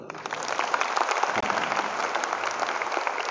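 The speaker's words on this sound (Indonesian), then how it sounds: "tepuk tangan buat beliau" An audience of teachers applauds a religious teacher at a motivational seminar at an Islamic girls' boarding school campus, a steady wash of many hands clapping with brief louder peaks and no talking.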